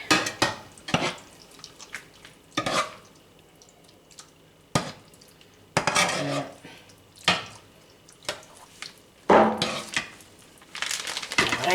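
Utensils stir and scrape through a cheesy burrito filling in a hot pan, making intermittent clattering bursts and clinks separated by brief pauses, close and moderately loud.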